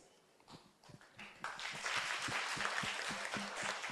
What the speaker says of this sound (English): A big round of applause as begins.